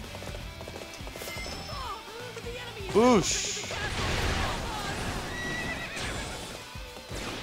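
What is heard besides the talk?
horse galloping and neighing in Dynasty Warriors 8 video game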